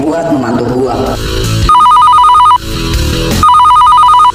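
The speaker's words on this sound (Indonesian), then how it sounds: "Jak, angkat telepon gua" A telephone rings twice, loud and close, in an animated drama about a war against rebels: two bursts of steady electronic trilling separated by a short gap, with busier background sound before them.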